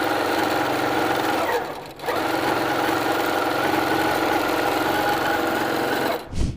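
Sewing machine stitching quilt fabric pieces together with a quarter-inch seam, a steady, close whirring run with a brief pause partway and another stop at the end.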